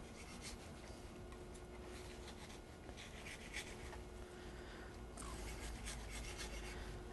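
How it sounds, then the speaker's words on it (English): A knife slides along the skin of a fish fillet, separating it from the flesh. A quiet, continuous rasping scrape sounds close up, with slight surges as the blade moves. No one speaks. "angle the knife and just cut right along the skin, holding it with your fingers, and keep moving your fingers up."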